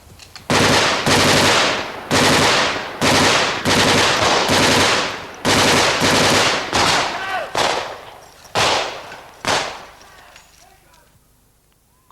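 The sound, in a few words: gunfire, shooting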